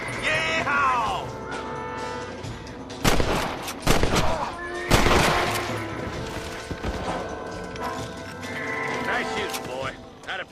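Repeated gunfire from the Red Dead Redemption video game on Xbox Series X: several sharp, loud shots in bursts, with a hoof-like clatter, over a busy game soundtrack and voices.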